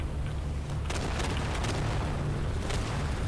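Dense battlefield explosions and booming blasts in the World War II shooter Day of Infamy, loud and continuous with sharp bursts layered over a constant rumble.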